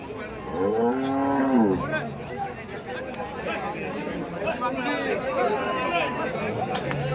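A cow lets out a long, loud moo up close amid the steady chatter and murmur of a busy crowd at the large Chalisgaon cattle market.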